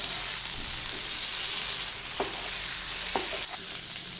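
Kerala-style liver sizzles and fries in a pan as a constant crackling hiss, broken by a couple of brief scraping stirs near the end.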